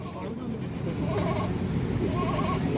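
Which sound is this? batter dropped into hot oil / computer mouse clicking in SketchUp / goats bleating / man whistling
goats bleating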